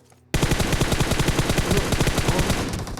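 Automatic gunfire in the mobile battle-royale video game PUBG Mobile: after a brief quiet moment, a loud, rapid burst of shots rattles on continuously for the remaining seconds.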